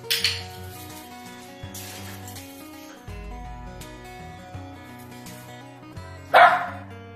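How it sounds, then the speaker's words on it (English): A dog barks a couple of times close by, with a sharper bark later, over soft background music and light clinking. "Can't look at him because he'll bark at you."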